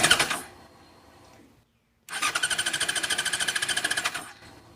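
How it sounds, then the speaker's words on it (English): Fuel-injected motorcycle engine cranked over on its electric starter with starter fluid added, a brief burst and then a fast, steady rhythmic chugging of the cranking lasting about two seconds after a short pause, loud and close without any voices. "All we need is really one cylinder to start firing. It'll get the rest going."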